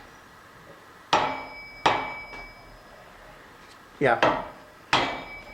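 Five sharp metallic knocks from a brass hammer drive a snug-fitting part down into place, spaced unevenly and ringing briefly, with a short spoken word between strikes.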